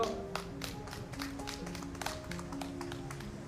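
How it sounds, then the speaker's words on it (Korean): A small audience at a photography talk on wildflower photography gives scattered, uneven hand claps over a faint steady tonal hum, a sparse round of applause lasting a few seconds. "큰 박수 부탁드리겠습니다."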